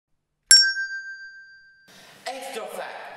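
A single bright metallic ding from an electromagnet-driven bell rings out and slowly fades over about a second, followed by a burst of faint rustling noise.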